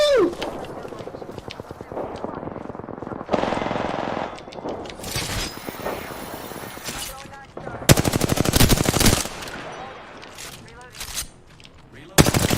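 Apex Legends gunfire: automatic weapon bursts crack in loud rapid volleys, broken by pauses and mixed with game effects, with voices talking in between.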